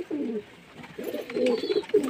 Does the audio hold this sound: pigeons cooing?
yes